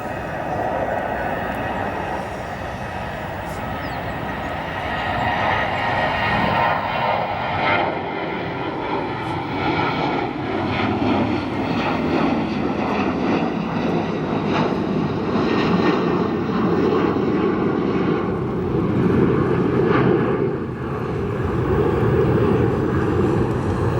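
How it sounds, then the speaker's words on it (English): A United Boeing 737 takes off at O'Hare, its jet engines building into a swelling, rumbling roar that holds strong and steady across the whole stretch. "Another aircraft cleared for takeoff"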